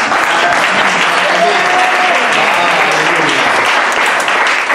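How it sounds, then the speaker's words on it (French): Loud, sustained applause from a large audience at a Bible institute student certification ceremony, a dense steady clatter of clapping hands filling the room without a break. "quand c'est comme ça, il faut acclamer"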